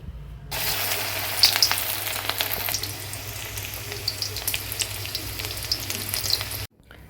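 Chicken manchurian pieces deep fry in oil over a medium flame, giving a loud, busy crackle and sizzle with bursts of popping that starts suddenly and cuts off just as abruptly several seconds later.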